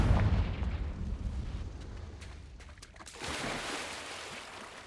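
Hogwarts Legacy video game Confringo fire spell explosion, a loud booming blast that rumbles and decays, followed by a second rushing burst.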